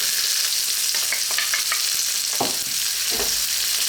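Garlic and onion sauté in a hot pan for pork fried rice, a continuous close sizzling hiss broken by a few scraping stirs of a spatula, with no voices.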